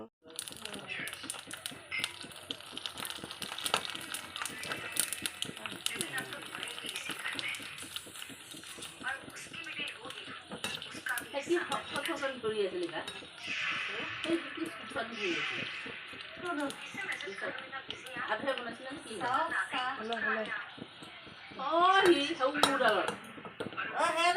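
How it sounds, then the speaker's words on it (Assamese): Boiled potatoes being mashed with a utensil in a pot, repeated clanking and scraping taps against metal in an irregular rhythm, close by, with someone talking throughout. "আলুখিনি পিটিকা কৰি ল'ম"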